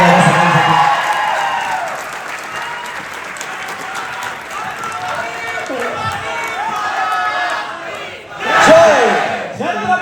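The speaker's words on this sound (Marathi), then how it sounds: "एकदा जोरात टाळ्या वाजवा सगळ्यांसाठी" A large audience at the Pune Vishwapreneur event breaks into loud, sustained applause and cheering for about ten seconds, with a dense wash of clapping, whoops and shouts near and all around, and one brief swell near the end.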